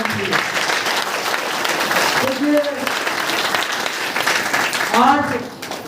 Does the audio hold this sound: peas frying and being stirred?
no